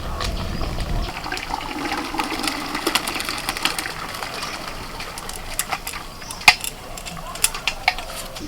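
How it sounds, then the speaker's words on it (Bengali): Starchy water is drained off cooked rice, with a splashing pour at first that gives way to a trickle, a few metal clinks and knocks of the pot. "ভাতটা হয়ে গেছে এবার ফ্যানটা ঝরিয়ে দেবো"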